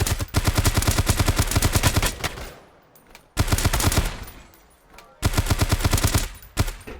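Sustained bursts of rapid automatic gunfire in the survival shooter Dysterra, three long loud volleys separated by brief lulls, close and dense.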